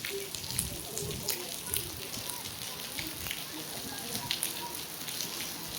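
Steady rain falls across the grounds of the Global Vipassana Pagoda, a broad soft hiss of drops on hard surfaces with a few brighter patters, continuous and fairly even throughout.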